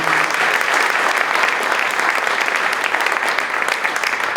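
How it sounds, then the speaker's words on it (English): Sustained, loud crowd applause honoring United States military veterans at an Ohio campaign rally, dense clapping holding steady for the whole stretch with no pause. "Let's give it a huge round of applause."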